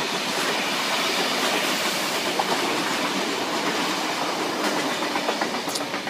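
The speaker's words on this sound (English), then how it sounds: "And another train." Close, loud rumble of a passing train with clickety-clack wheel rhythm and occasional high squeals, steady from start to finish.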